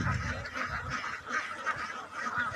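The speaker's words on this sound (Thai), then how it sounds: "เลี้ยงเป็ดไข่ครับผมนี่" Laying ducks on a duck farm quack as a dense, continuous flock chorus, fairly close and steady throughout with no talking.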